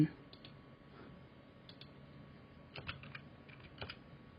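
Several faint, sparse computer mouse clicks against a quiet room hum, scattered irregularly across a few seconds.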